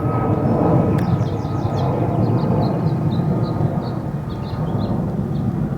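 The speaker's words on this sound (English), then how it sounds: "Okay, the airplane's gone." An airplane passes overhead outdoors, making a steady, loud, broad roar that fills the whole clip. Faint chirps sound high above it.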